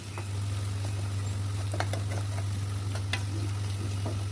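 Onions stirred and fried over a high flame until brown, a steady close sizzle with faint scraping and stirring clatters scattered through, no talking.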